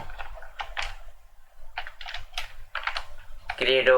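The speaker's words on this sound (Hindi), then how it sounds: "गूगल क्रोम ओपन करो और यहाँ टाइप करो" Typing on a computer keyboard with bursts of quick, close key clicks, ending under a brief voice.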